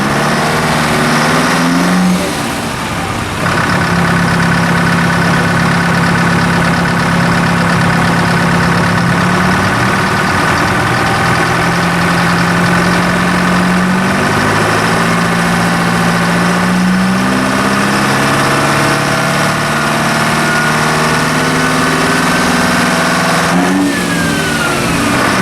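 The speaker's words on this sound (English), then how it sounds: "So it's a late 60s to early 70s Chevy C10 pickup with a 456T Detroit diesel." A 456T Detroit diesel in a late-1960s to early-1970s Chevy C10 pickup runs loud and close, its steady rumble rising and falling through several revs, with no talking.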